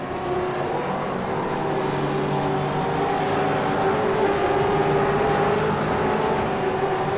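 A V8 race car in iRacing drones steadily out of the last corner, a continuous loud engine note with a slowly shifting pitch and no break.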